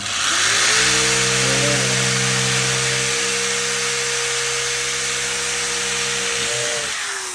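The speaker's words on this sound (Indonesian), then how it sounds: "Nah, tuh terus bagian belakang dibor lagi." A power drill bores into the rear body panel of a Ninja 250FI motorcycle during a bodywork modification, a loud, steady whirring motor hum held for several seconds before winding down, with no talking.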